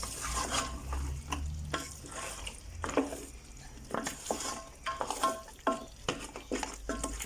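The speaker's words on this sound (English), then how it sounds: "Give this a stir. Make sure you mix it well." Green chili, tomato, garlic and ginger are stirred in a pot for goat curry, a spoon scraping and clinking against the metal in irregular strokes over a faint, quiet sizzle.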